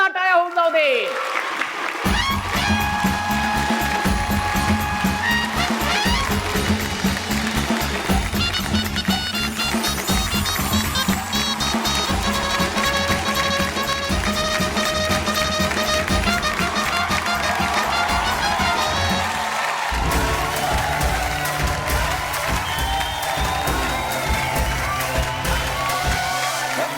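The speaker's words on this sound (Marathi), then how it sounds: "एकदा जोरदार टाळ्या होऊन जाऊ दे." A studio audience applauds and cheers loudly and steadily on a TV game show, with a music bed running underneath throughout.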